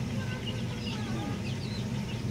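A banded gamecock being treated for limberneck clucks softly in a few faint, scattered calls over a steady low background hum, heard from close by without any clear crow.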